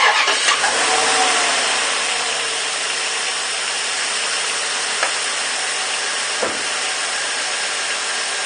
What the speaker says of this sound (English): let's go ahead and start the truck